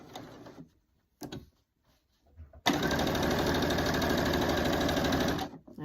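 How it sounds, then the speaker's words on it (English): A sewing machine stitches binding strips for a quilt, starting with short stop-start bursts of rapid mechanical whirring before settling into a steady, close, loud run of about three seconds. "sew corner to corner"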